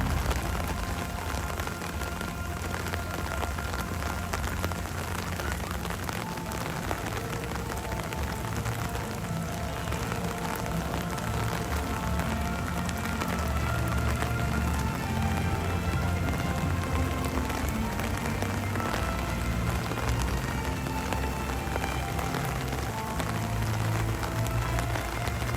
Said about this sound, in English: How about the sound of the rain on the umbrella?